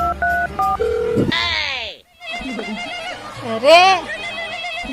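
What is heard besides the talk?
telephone ringing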